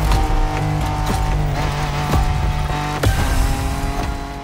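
Engine of an off-road racing car in The Crew: Motorfest, loud and close, with a droning tone that climbs and drops through gear changes, plus occasional sharp impacts.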